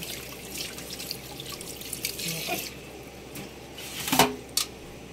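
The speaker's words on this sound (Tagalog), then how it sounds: "buhusan natin ng tubig para mahiwa natin." Water from a tap runs over an octopus in a kitchen sink, a steady splashing flow with a couple of sharper splashes near the end.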